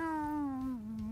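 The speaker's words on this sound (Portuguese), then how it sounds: "Tá miando, né?" A single drawn-out cat meow, close and clear, its tone sliding slightly downward and holding steady for about a second.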